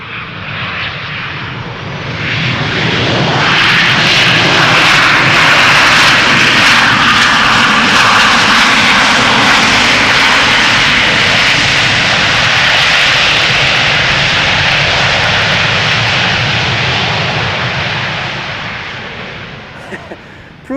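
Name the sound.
Boeing 737 jet of Sunwing/TUI arriving at Schiphol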